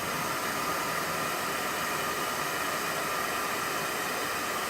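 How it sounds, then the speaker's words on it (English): A blow dryer runs continuously with a steady, loud airy roar that stays unchanged throughout. "And then I'm gonna set it with a blow dryer."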